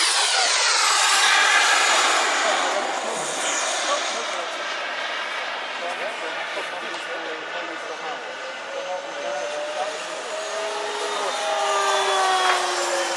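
A large RC T-27 Tucano turboprop model airplane, 2.7 m wingspan and 15 kg, takes off at the JetPower fair 2014, its loud turbine whine and prop roar sustained and slowly shifting in pitch, with an announcer talking over it.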